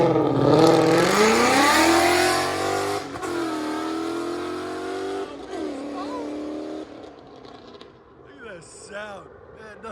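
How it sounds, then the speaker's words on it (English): An E85-tuned Ford Mustang GT 5.0 V8 with long-tube headers and a Corsa Xtreme quad-tip exhaust revs hard up close, its loud roar climbing then falling away to idle while a person talks near the end. "GT50 E85 tuned, long tube headers, X5, CORSA XTREME with quad tips."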